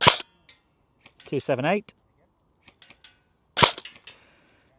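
Cyma CM.009E XM177 airsoft rifle with hop set for 0.25 gram BBs fires single shots through a chronograph: a few sharp snapping pops spaced apart, with a brief spoken number between shots.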